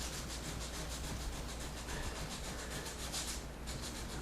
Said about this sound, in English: Sand that little edge right there.